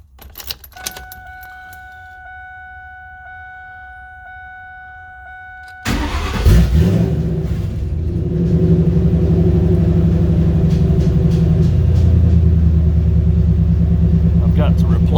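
A 2003 V6 Mustang with straight exhaust is started after keys jangle and a chime sounds; the engine cranks, catches and settles into a loud, deep, raspy idle with rising revs.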